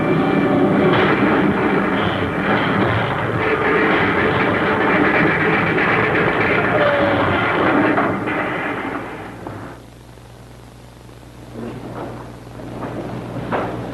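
A spaceship coming down in a crash landing in an old science-fiction TV drama, a loud sustained roaring rumble like a diving aircraft that cuts off abruptly, leaving a quieter low hum.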